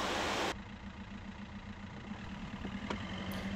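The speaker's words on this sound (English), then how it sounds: "While we're driving home" A car engine runs steadily while driving home, a constant mid-to-low hum with road rumble; a brief louder burst at the start then settles into an even, continuous drone.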